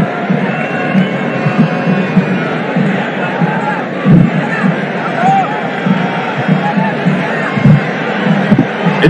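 A large football stadium crowd roars continuously at a Santosh Trophy final, Kerala versus West Bengal, with loud swells of cheering rising and falling throughout.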